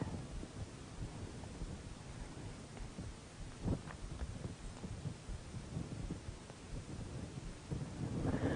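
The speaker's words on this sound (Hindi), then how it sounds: "देर शाम से हो रही मुसलसल बारिश" Steady rain falling in the evening in Bhopal, Madhya Pradesh, a constant wash of noise broken by a few low rumbles and cracks of distant thunder.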